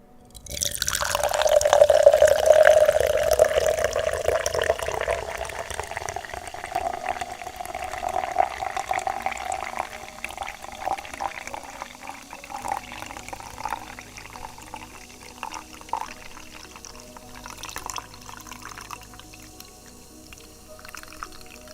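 Ultra Peachy Keen Monster Energy drink pours from the can in a steady close gush that fizzes and splashes loudly, then fades into soft dripping and crackling carbonation.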